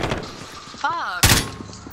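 Shotgun fire in a video game: one sharp, loud blast near the end follows a softer thump, with a player talking and a warbling in-game tone in between.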